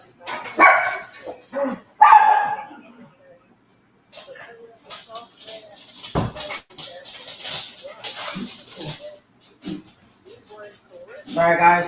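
Dogs bark and yip in short, sharp bursts at close range, some barks overlapping with a voice talking in between.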